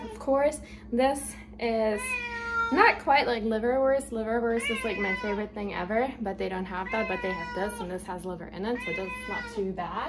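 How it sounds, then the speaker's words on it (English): A pet cat meows loudly and insistently at close range, repeated wailing cries running through the whole stretch under and between someone talking. "Sorry for the screaming cat."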